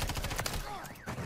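Rapid gunfire in Modern Warfare III Zombies, a quick burst of close, crackling shots over a busy game mix, with a sweeping electronic whine in the middle.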